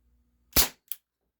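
A Cybergun Baby Eagle CO2 airsoft pistol fires Smart Shot BBs in a single sharp, loud pop, followed by a fainter snap a moment later, close by with silence around it.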